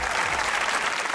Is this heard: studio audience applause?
yes